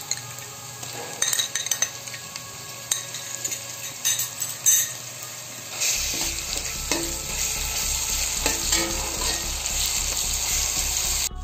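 Ginger garlic paste sizzles steadily in hot oil in a pan for beef bhuna keema. A utensil scrapes and stirs it with repeated clinks, and the frying grows louder and denser partway through. No one speaks.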